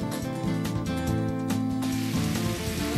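Rain falling as a sound effect in an advertisement, a steady close hiss of drops that runs the whole time, blended with sustained tonal, music-like layers.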